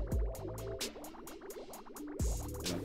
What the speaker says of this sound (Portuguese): Aí, agora a água poluída passa aqui.